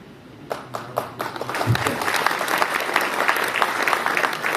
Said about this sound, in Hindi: लोग ताली बजा रहे हैं रिएक्शन पे भी।